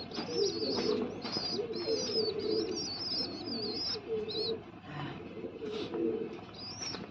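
Several pigeons coo in soft, rolling phrases, overlapping and repeating throughout, with a few chirps mixed in nearby.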